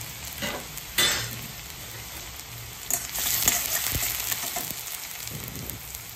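Half a cup of chopped onion hits fully heated oil in a pan for veg manchurian, crackling and sizzling steadily while a utensil scrapes and stirs in several bursts. Close and loud, with no voices.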